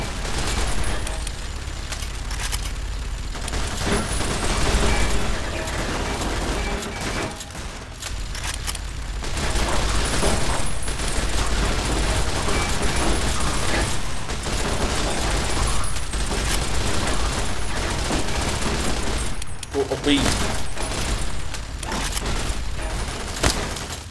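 Companions firing guns in Fallout New Vegas in an abandoned vault's lower levels, dense sustained bursts of gunfire and mechanical clatter running nearly throughout, with brief lulls and loud peaks.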